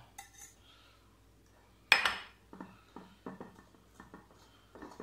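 Canelé batter being mixed with melted butter in a bowl, heard as soft intermittent scraping and sloshing strokes with one sharper utensil clink near the start of the sequence, quiet and close with no talking.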